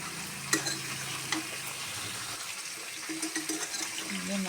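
Jackfruit curry frying in a pan is stirred, giving a continuous sizzle with scraping spoon strokes and occasional clacks against the pan, close and moderately loud.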